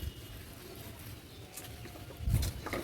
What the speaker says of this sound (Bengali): পায়রাগুলো আবার চলে এসছে বাবার কাছে